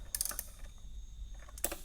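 A ratchet snugging up bolts on an LS swap intake in a K5, a few quick faint clicking bursts at the start and end with a quiet pause between.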